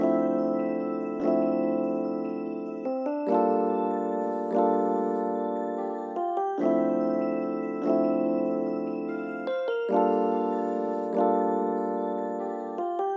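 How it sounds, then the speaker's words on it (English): Bright synth bell layered over a Rhodes electric piano in a plugg-style beat, sustained chords re-struck roughly every one and a half seconds with a shimmering tinkle on top, steady and up close with no voices. "The bell kind of mixes really nicely with the Rhodes because it kind of just complements, fills in that empty space."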